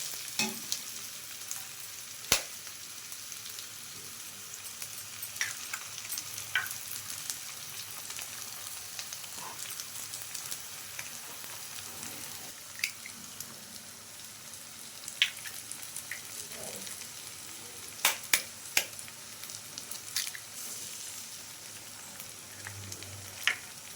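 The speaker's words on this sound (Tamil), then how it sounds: "இப்போது வெங்காயம் நல்லா வதங்கிருச்சு முட்டை உடச்சி ஊற்றிக்கலாம்" Sautéed onions and eggs fry in a pan, producing a faint, even sizzle with scattered soft crackles and ticks over a long stretch.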